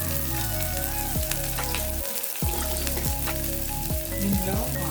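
Onions, green chillies and curry leaves frying in hot oil, a loud, dense sizzle up close with scraping stirs and a brief lull midway.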